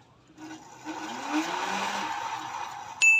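A foldable e-bike hub motor whirring up on the throttle after a controller swap, a steady mid-pitched hum rising and holding for a few seconds before a sharp click at the end, no talk.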